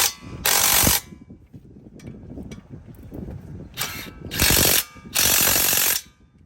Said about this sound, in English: I'm going to tighten these two 19 caliper bracket bolts down.